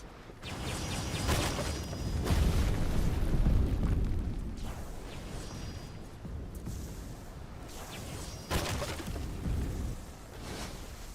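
Heavy explosions from an attack barrage in Arcane Odyssey, a video game, roll through in several booming waves with bursts and whooshes, loud and continuous with a sharp new blast partway through.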